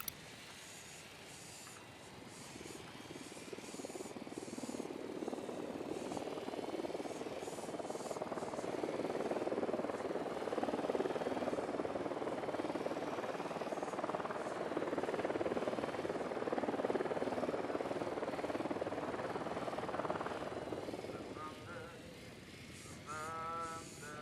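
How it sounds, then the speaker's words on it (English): A surveillance drone in Ghost Recon Wildlands hums steadily through a long stretch, its buzzing rotor drone swelling and holding at moderate loudness before tapering off near the end. "Deploying drone."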